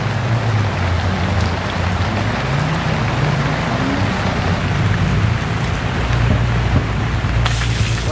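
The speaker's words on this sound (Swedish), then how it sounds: "Alltså nu regnar det." Rain falls steadily and loudly on surfaces outdoors, a dense continuous patter with a low rumbling hum beneath it, and no talking.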